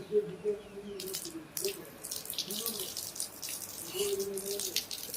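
A tap runs in intermittent gushing bursts while a sick live chicken is washed, with low, soft clucking-like calls repeating underneath, all close by.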